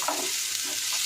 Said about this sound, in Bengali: সবজিগুলোও দেখুন কত সুন্দর ভাজা হয়ে গেছে